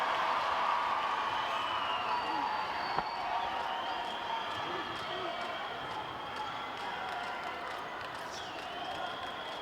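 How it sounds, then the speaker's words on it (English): A netball crowd at a Botswana versus Uganda youth match gives a broad, sustained cheer and scattered applause after a goal, a distant wash of noise with steady commentary talking over it. "And again, to the delight of the crowd, another goal by David."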